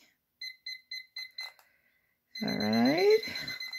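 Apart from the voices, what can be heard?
timer alarm going off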